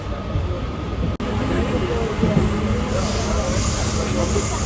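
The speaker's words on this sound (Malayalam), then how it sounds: "നമ്മുടെ മെമൂലൊക്കെ കേറി കൊല്ലത്തേക്ക് പോവുകയാണ്" Interior of a moving MEMU commuter train carriage with standing passengers, a steady broadband rumble and hiss of the running train filling the whole stretch, briefly cut once, with faint voices underneath.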